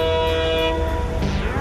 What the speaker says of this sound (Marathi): अरे ट्रेन आता ट्रेन आता